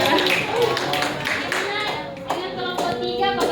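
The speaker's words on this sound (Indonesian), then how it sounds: "tepuk tangan." A classroom group claps together during a teaching practice session, brisk overlapping handclaps close by, mixed with voices talking.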